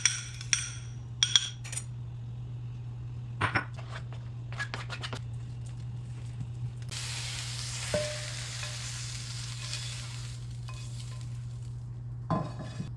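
Food fries in a pan coated with olive oil spray, a soft sizzle under a low steady hum, broken by scattered scrapes and clicks of a utensil and a longer hissing burst midway.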